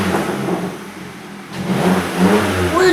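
Vauxhall Corsa with a full straight-pipe exhaust revving close by, a rough engine note that dips and then climbs again with crackling burbles at the end.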